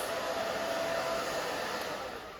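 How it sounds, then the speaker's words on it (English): A hair dryer runs steadily and close, blowing on a layered bob with piecey bangs as it is dried into place after round brushing, a continuous whooshing hum that tapers slightly at the end. "Now that we've round brushed, I just kind of dry it into its place."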